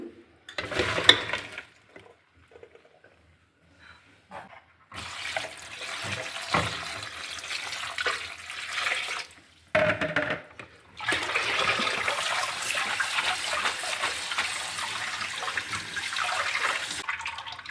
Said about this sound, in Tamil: வடிகட்டிட்டு கொஞ்சம் பச்சை தண்ணி விட்டு